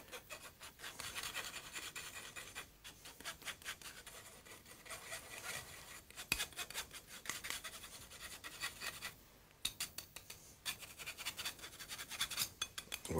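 Flour being sifted for a walnut cake gives a steady, close scratching and rubbing sound with rhythmic shaking pulses that grow more pronounced toward the end.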